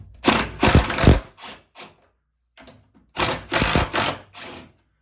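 A 7/16 power tool backs bolts out of a loft bed during disassembly, two rounds of loud whirring bursts separated by a short pause.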